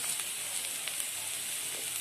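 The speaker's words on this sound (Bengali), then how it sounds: "এবারে এগুলোর মধ্যে পেঁয়াজটা দিয়ে দেব, দিয়ে আরও 5 মিনিটের জন্য ভেজে নেব।" Steady, close sizzle of chopped onion frying in oil with snake gourd in a pan, a constant bright hiss with faint crackles and no voices.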